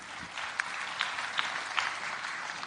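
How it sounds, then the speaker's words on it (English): Audience applause at a public reconciliation event at KICC, a steady wash of clapping from a large crowd with a few sharper claps standing out, fairly distant and even throughout. "A round of applause."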